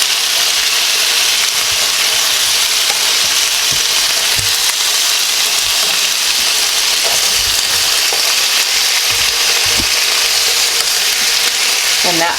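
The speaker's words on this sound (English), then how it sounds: "they're getting nicely browned and pan-seared" Chicken thighs pan-searing in beef tallow, a loud, dense, continuous sizzle and crackle of hot fat close by, with occasional soft stirring sounds and no talking.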